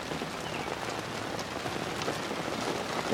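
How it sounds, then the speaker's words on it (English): Heavy rain pours down during a rainstorm, a dense, steady hiss of drops hitting surfaces close by, with no voices. "we're getting heavy rain"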